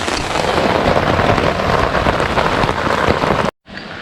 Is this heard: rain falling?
yes